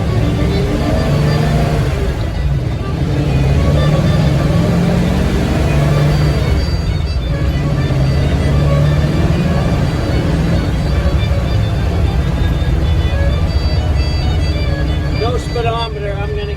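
A 1946 Ford Woodie pulls away in first gear and drives along the road, its steady low engine drone loud and continuous throughout, with faint hints of gear changes and a person talking over it.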